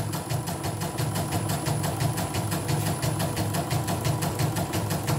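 A shoe embroidery machine runs steadily after repair of a jam, its needle mechanism clattering in a fast, even rhythm with a low mechanical hum underneath, close and continuous with no talk.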